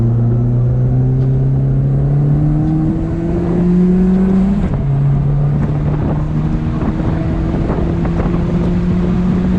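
A Volkswagen Jetta engine drones steadily and rises in pitch as it accelerates on a freeway, with a brief shift partway through, under heavy wind buffeting.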